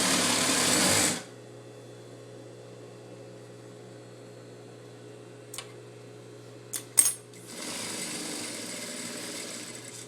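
A sewing machine stitches fabric in short loud bursts at the start and end, back stitching on a headpiece, with a quiet stretch and a few clicks between runs.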